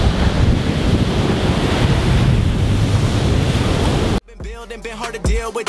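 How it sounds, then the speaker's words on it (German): Strong wind roars over waves breaking on the beach at Arugam Bay, Sri Lanka, a loud, continuous wash of surf and gusts for about four seconds before it cuts abruptly to music. "Weil es so stark windig hier ist und die Wellen früher brechen."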